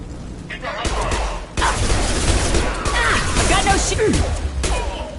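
Gunfire from Blue Suns mercenaries and gangs in Mass Effect 2, with bursts of sharp shots, cracks and booms coming in loud clusters over a dense battle din, and a voice speaking in between.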